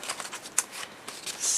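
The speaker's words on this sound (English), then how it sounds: "So I think it's ready to cut out now." Scissors cutting out a handmade paper clock card, a few close, crisp snips in an irregular rhythm, ending in a brief brighter rustle of paper.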